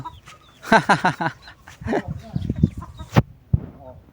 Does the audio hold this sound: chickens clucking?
yes